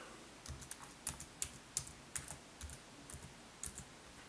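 Keys tapped on a Mac computer keyboard while entering a password during setup, a sparse, uneven string of soft clicks, close and quiet against faint room hiss.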